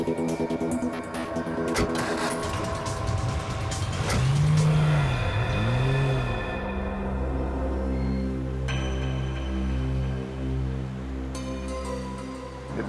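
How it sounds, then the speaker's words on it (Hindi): A car speeds hard through a chase, its engine revving loud and steady with rising and falling pitch sweeps as it accelerates, close and continuous throughout. "बहुत भगा रहा है गाड़ी"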